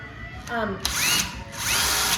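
A power drill runs in reverse in short whirring bursts, its pitch rising and falling, while removing long bolts from an Indian Power Plus 100 Gilroy motor, close and loud.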